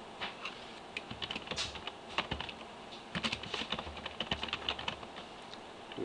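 Steady typing on a computer keyboard as a person's first name and surname are entered into a website's user management form, with quick irregular bursts of key clicks, close and clear, and no talking.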